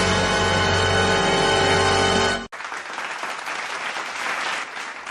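Loud crowd applause welcoming a singer at a Bhojpuri singing audition, a dense burst of clapping that follows a cut from loud music and keeps going steadily.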